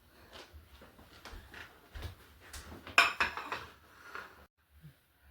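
A plate is picked up and handled in a home kitchen while Pasaha appam is served: a series of light clinks and clatters of dishware, with one sharper knock midway, fairly close and quiet.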